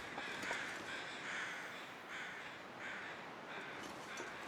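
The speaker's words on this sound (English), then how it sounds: "Crows flying overhead." Crows caw repeatedly overhead in the snowy wilderness of The Long Dark, several harsh calls spaced out at a moderate distance over a faint ambient hiss, with no talk.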